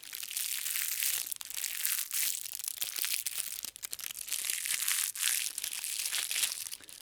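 Loud, continuous crinkly rustling close up, crackling and crunching without pause for several seconds as a crinkle-ball cat toy is squeezed.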